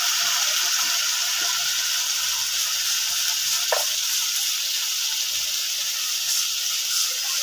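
Onion paste frying in a pan for coriander chicken, a steady broadband sizzle with occasional stirring scrapes, close and continuous throughout.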